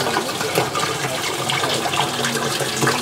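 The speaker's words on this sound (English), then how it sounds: "And water is now spilling into the internal overflow." Water pours steadily into the internal overflow of a 130-gallon coral reef aquarium during setup, a loud, continuous splashing rush close to the microphone.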